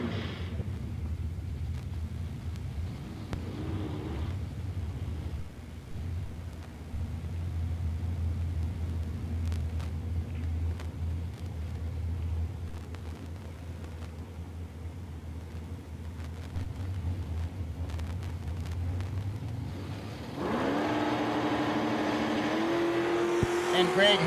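A Chevrolet Monza and a Vega drag cars sit at a Woodburn, Oregon strip, making a low, steady rumble under commentary before a sudden loud engine rev and launch near the end.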